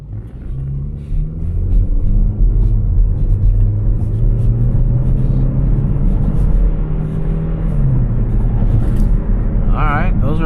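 Cabin view of a used Lexus RX350 driving: a low, steady engine and road rumble, with the engine tone rising and easing as the car moves.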